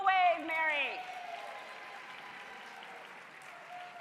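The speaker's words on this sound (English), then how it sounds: "I think Mary brought her own cheering section" Applause with some cheering from a live audience at a merengue dance competition, louder at the start and then settling into steady clapping, with a voice speaking over it.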